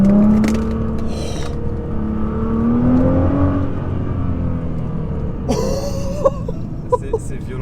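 A Nissan GTR rated at 550 hp picks up under light throttle, its engine rising steadily in pitch, while someone talks in French over the drone and a few sharp clicks follow near the end.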